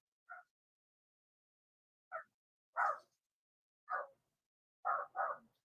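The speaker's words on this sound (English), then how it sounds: "The dogs are going batshit." Dogs barking at home, heard as six short, sharp barks spaced irregularly apart, fairly distant and faint, with silence in between and the last two coming in quick succession.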